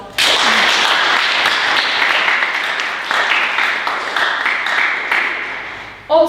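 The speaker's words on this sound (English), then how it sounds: "Now, please, big applause." Loud conference-hall applause starts abruptly and continues densely for about six seconds with slight rises and falls, then fades before a brief voice at the very end.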